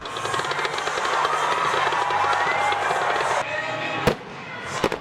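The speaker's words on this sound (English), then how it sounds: "After the game was a fireworks show." Fireworks burst over a ballpark after a baseball game: a dense, continuous crackle and rumble of explosions with a crowd cheering beneath, then a lull broken by a few sharp, loud isolated bangs near the end.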